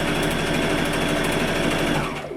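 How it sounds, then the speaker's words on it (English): A sewing machine stitches face mask straps in a fast, even mechanical whirr and rattle, loud and close, before slowing and stopping at the very end. "Okay, so you keep on sewing and sew it together."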